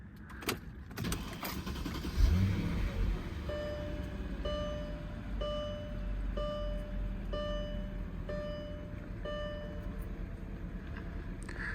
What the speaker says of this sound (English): Hear that 5-liter V8 come to life.